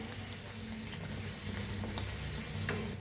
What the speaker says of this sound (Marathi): किती छान तंबू फुगले ना दोन्ही साईडने छान असं तळून घेऊया